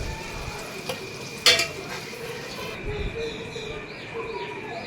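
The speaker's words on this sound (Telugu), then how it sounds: "ఎగ్స్ కొంచెం కలర్ చేంజ్ అయ్యేలాగా బాగా ఫ్రై చేసుకొని తర్వాత వాటిని ఒక ప్లేట్లోకి తీసుకోవాలి" Eggs fry with a steady sizzle in a pan for egg biryani, a spoon scraping and stirring now and then, with a clink and faint birdsong in the background.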